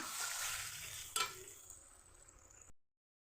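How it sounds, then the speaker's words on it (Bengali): A pot of Bengali potato curry with lentil fritters, stirred with a utensil over a steady frying sizzle, with one sharp scrape or clink partway through; close and fairly quiet, with no talking. "একটু নেড়ে চেড়ে দেবো।"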